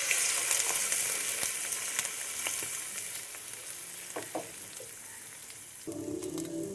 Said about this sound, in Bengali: তেলটা পারফেক্টলি গরম হয়ে গেছে, তাই আগে থেকে ধুয়ে রাখা চিংড়ি মাছগুলো তেলের মধ্যে দিয়ে দিচ্ছি